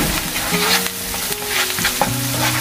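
Squid sizzles steadily in a hot pan while it is stirred and scraped, close up, with no talking.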